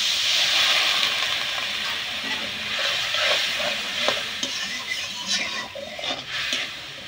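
Spiced paneer curry sizzles and hisses steadily in a pan after a splash of water, with intermittent scraping stirs in a vegetarian home kitchen, loud and close with no voices.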